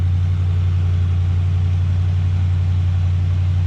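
An Oldsmobile engine runs steadily after a cold start, a loud, close, even low rumble with no change in pitch throughout.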